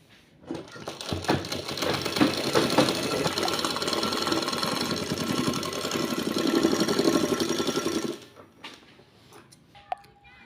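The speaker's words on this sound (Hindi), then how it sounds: "यहाँ से हम एक सिलाई लगा लेंगे यहाँ पर।" A sewing machine stitches a trouser pocket in a fast, continuous mechanical rattle for about eight seconds, then stops abruptly, leaving a few faint clicks and a short tone.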